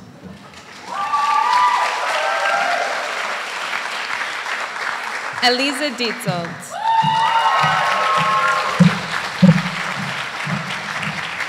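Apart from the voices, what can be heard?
graduation audience cheers and applause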